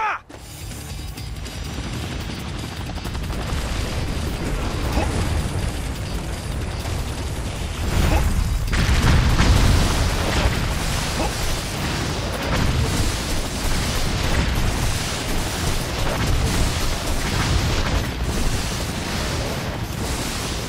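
Explosions and clanking mechanical noise in the action game Ninja Gaiden 3: Razor's Edge, set in Saudi Arabia, with a dense, loud, continuous roar and a heavy low-frequency boom swelling around the middle.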